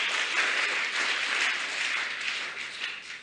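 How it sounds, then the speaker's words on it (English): Young scholarship recipients clap for themselves at a ceremony, a dense, even applause from a large group that stays steady throughout and eases off slightly at the end. "Clap yourself, please."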